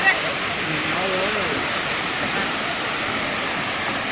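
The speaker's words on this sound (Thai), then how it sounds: "ความยิ่งใหญ่ของน้ำตกแล้วแรงมากครับ" Khlong Lan waterfall in Kamphaeng Phet, Thailand, roars as a dense, steady rush of falling water, loud and close, with a voice speaking briefly over it at the start.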